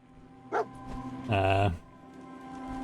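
A pet dog in a room gives a short sharp yip, then a longer whining bark a moment later, close by and fairly loud, over a quiet indoor hum.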